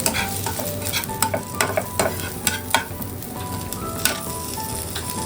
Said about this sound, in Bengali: এই ফোড়নটা আমি ওর মধ্যে দিয়ে দেবো।